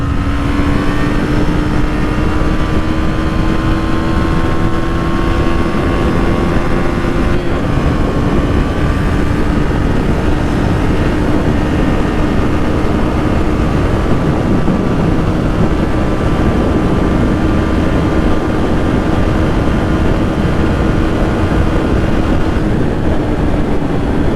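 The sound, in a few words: Husqvarna Svartpilen 250 motorcycle riding on highway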